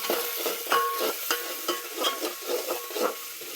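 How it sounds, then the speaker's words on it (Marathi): Masala and whole spices frying in hot oil in a home kitchen, a steady close sizzle broken by repeated scraping stirs roughly every half second, with no one speaking. "चांगला तेलात फ्राय होते बघा, मग खूप सुंदर लागतं."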